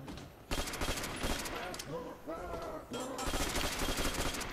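Automatic weapon fire in Call of Duty: World at War's Nazi Zombies mode, steady rapid bursts running through most of the stretch with short pauses, loud and close, mixed with game effects and some voice-like sounds.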